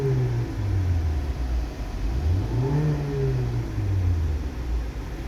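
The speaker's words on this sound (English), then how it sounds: "so we can see the car running." Renault Clio III RS or Megane II RS engine fitted with a standalone Motec M130 ECU, running and revving steadily nearby, its pitch rising and falling through several swells without speech.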